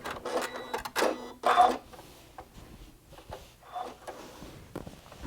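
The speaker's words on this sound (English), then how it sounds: "now we're going to stitch this scant quarter inch seam in from this seam that we had just done with the facing" A sewing machine runs a scant quarter-inch seam along a quilt facing, in three loud close bursts early on, then quieter mechanical clatter and handling.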